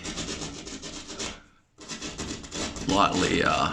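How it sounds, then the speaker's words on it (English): A screw scraping gyprock plaster sheet to widen a downlight hole during a home renovation: close, rough rubbing strokes in bursts, with a brief pause midway and a voice talking over the later part. "take away some of the gyprock, some of the plaster sheet there"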